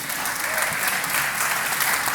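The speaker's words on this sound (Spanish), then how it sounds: "¿Por qué no le damos un aplauso a Jesús?" Church congregation applauding together, a steady, dense wash of clapping from many hands that fills the space evenly for a couple of seconds without pause.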